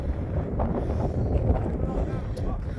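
Strong wind buffets the microphone, a loud, continuous low roar and rumble with no clear voices.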